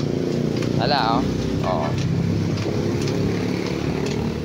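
A Yamaha Mio Soul i 125 scooter engine idles steadily and loudly up close, a constant droning hum throughout, with someone speaking briefly over it.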